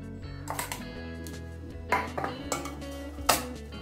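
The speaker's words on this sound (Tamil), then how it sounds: "சாதத்தை ஒரு பாத்திரத்தில் கொட்டிட்டு நம்ம அரைச்சி வச்சிருக்கிற விழுதை இதில் போட்டு நம்ம கிளம்பி எடுக்கணும்" Cooked rice is mixed with a ground coriander and mint paste in a metal vessel, giving scattered clinks and scrapes of a utensil against the pot at close range, with no talking.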